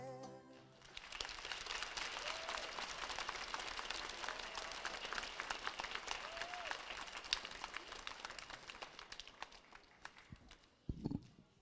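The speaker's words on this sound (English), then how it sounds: "big round of applause there" Sustained audience applause after a fifth-grade girls' dance performance at an elementary school sharing parade, a dense steady wash of clapping from a crowd that continues for about ten seconds before fading out.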